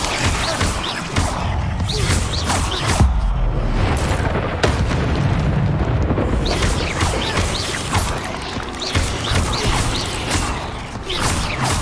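Incendio fire spell cast in the Hogwarts Legacy video game, a loud sustained burst of roaring flame with booming, crashing impacts that stays dense and steady for several seconds.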